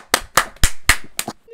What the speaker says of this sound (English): She clapped.